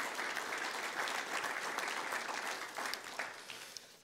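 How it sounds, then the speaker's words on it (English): A church congregation gives a round of applause for the Lord during a service, a soft, distant patter of many hands clapping that holds steady for about four seconds before easing slightly. "So the Lord gets a round of applause, right, for what he does here."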